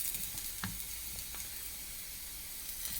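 Onion and garlic sauté in a pan with a soft, continuous sizzle, punctuated by a couple of light stirring clicks, quiet and steady without speech.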